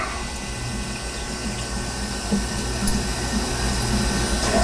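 Water runs steadily while a drilled glass wine bottle is rinsed out, a continuous close rushing and gurgling hiss with no talking.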